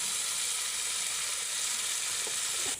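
Cumin paste frying in hot oil in a pan as a tilapia curry with potato and tomato cooks, a loud continuous sizzle close by, with a couple of faint clinks near the end.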